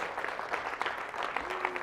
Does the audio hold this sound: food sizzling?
no